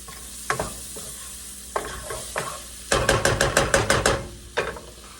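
Food cooking in a pan for a homemade cheesy burger mac, heard as scattered clanks and scrapes and then a quick run of sharp rhythmic knocks, close and clear against a low background hiss.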